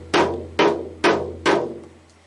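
Four deep booming hits from a homemade electronic drum pad firing a low Japanese drum sample, far lower and rumblier than a low tom, spaced about half a second apart, each decaying slowly, with no voices.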